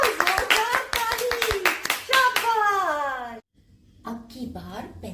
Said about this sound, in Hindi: पेंसिल की ताली, ताली तो बजाओ, जोरदार ताली, शाबाश